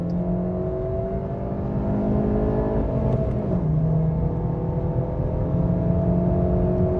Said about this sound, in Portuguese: deixa eu dar uma aceleradinha, galera